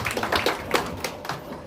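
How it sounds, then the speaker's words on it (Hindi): Brief, light hand clapping from a small group at an engagement ceremony, a few sharp claps scattered over a second or two before fading. "तो ताली बजा जोर से।"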